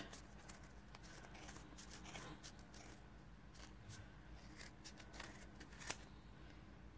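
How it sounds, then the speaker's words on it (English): Scissors snip through wound yarn while a pom pom is made, a series of soft, close crisp cuts and rustles with one sharper click near the end, fairly quiet overall. "Just cut across the middle like this."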